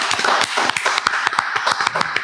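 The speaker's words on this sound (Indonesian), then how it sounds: "Kita tepuk tangan untuk Kakak Alfa" An audience claps their hands in a short burst of dense, irregular applause, with sharp individual claps standing out close by.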